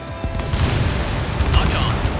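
Missile launch and explosions in the Ace Combat 7 air-combat game, a dense rumble of booms and bursts with a whooshing streak, under radio chatter.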